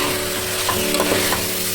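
Marinated chicken fries in a pot with biryani spices for Andhra chicken biryani, a loud, dense, steady sizzle with faint stirring scrapes throughout, close up and without talk.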